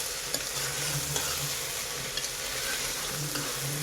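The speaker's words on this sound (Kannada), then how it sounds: "ಈಗ ನಾನಿಲ್ಲಿ ಶುಂಠಿ ಬೆಳ್ಳುಳ್ಳಿ ಪೇಸ್ಟ್ನ ಸೇರಿಸ್ತಾ ಇದ್ದೀನಿ." Ginger garlic paste stirred and frying in a pan for a soy veg pulao, a steady close sizzle with repeated scraping stirs and small clicks of the spoon, with no talking.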